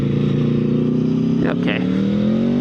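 A 1000cc sportbike engine drones loud and close, its pitch climbing steadily as it accelerates, with a rider's voice briefly heard over it.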